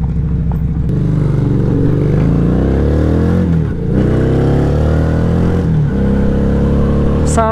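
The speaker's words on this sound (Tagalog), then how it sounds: "may enjoy mo talaga yung growl ng kanyang exhaust dahil wala siyang catalytic" FKM Victorino 250i V-twin motorcycle with no catalytic converter, revving loudly up and down in close, continuous exhaust growl, with rising and falling pitch sweeps and a brief dip near the middle.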